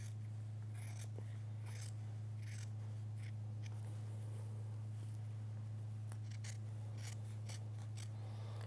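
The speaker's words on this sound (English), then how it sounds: "with using the scissors I can feel when the fabric is not out of the way" Scissors trim quilt fabric in a sewing workshop. The blades give repeated crisp snips and rasping cuts at an uneven rhythm, close and moderately quiet over a steady low electrical hum, with no talking.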